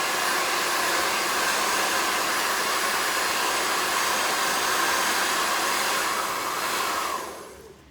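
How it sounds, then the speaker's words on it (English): A hair dryer blows with a loud, steady rushing whoosh close by, then winds down and cuts off in the final second. "then blast with the hairdryer."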